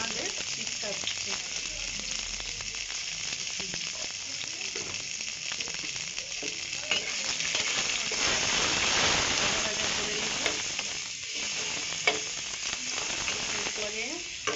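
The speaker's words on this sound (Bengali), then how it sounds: "ফোড়ন হয়ে যেতে আমি টমেটো কুচিটা একটু হলুদ দিয়ে দিচ্ছি, নাহলে ছিটকাচ্ছে" Chopped tomato with turmeric hits hot spiced oil and sizzles in a steady, crackling hiss, close up with occasional spits and a few louder pops.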